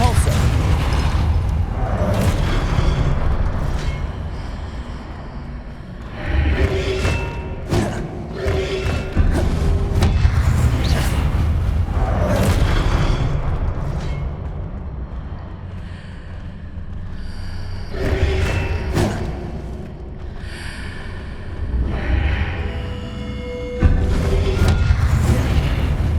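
Spell blasts from Hogwarts Legacy, including the Confringo fire explosion charm, thud and boom in repeated bursts among combat sounds and grunting breaths, with gaps between volleys.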